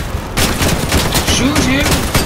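Rapid automatic gunfire from a gun in the video game Crossout, loud dense bursts firing continuously throughout, with a voice speaking over the shooting.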